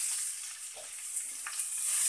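Onions with chopped ginger and garlic sizzle steadily in hot oil, a dense close-up frying hiss with faint stirring touches and no voices.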